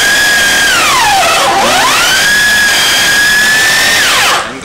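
A power drill with a counterbore whines loudly and steadily, its pitch dipping sharply twice as the bit bites through layered carbon fiber and fiberglass, then trailing off at the end.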